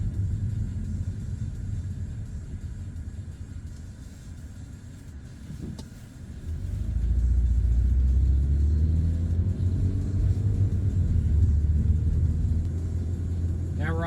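A car driving along suburban roads during a Dartmouth, Nova Scotia road test, a steady low cabin rumble that swells as the car speeds up, with someone talking over it.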